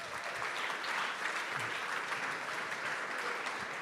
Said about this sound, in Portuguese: Uma salva de palmas para eles aí.